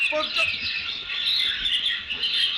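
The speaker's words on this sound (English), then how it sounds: "Hundreds of thousands of birds suddenly appearing in the forum" Dense, continuous high-pitched chirping and shrieking from hundreds of thousands of birds in a forum, steady and loud throughout, with no pauses.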